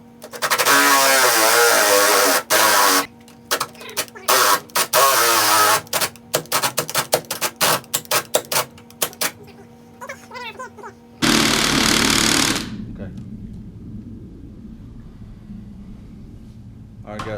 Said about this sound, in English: we got the hole drilled through the stainless